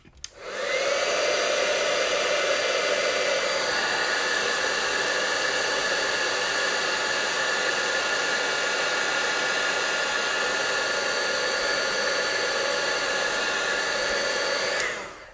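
A heat tool blowing over a stamped card for heat embossing, a steady loud whooshing fan-and-air hiss that runs almost unbroken for the whole stretch, close and alone.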